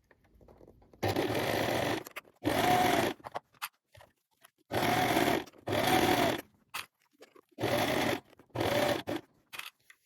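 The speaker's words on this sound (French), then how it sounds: "Vous allez coudre donc de votre repère de l'encolure jusqu'à l'épaule à 1 cm du bord et vous allez coudre au point droit" Close, loud bursts of a sewing machine sewing a straight stitch at stitch length 3 along a knit T-shirt from neckline to shoulder, six short runs broken by silent pauses.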